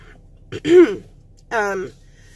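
Two short, rough bursts of throat clearing and coughing, close and fairly loud, with a brief pause between them and no talking.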